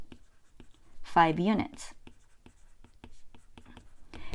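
Math notes are written by hand during a lesson, producing short scratchy pen or marker strokes in an irregular rhythm, with a person talking over part of it.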